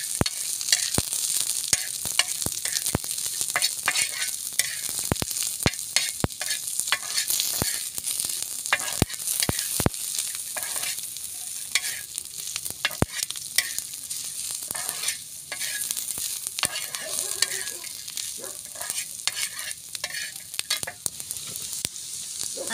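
Spice masala roasting dry on a griddle over a wood-fired stove for a fried Sheelon fish dish, a steady hiss broken by frequent sharp scraping and clicking stir strokes, close and alone with no talk.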